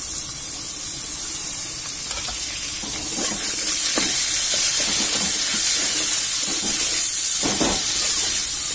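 Chopped onion fries in a pan with whole spices such as bay leaf and black cumin, giving a steady loud sizzle with occasional scraping stirs throughout.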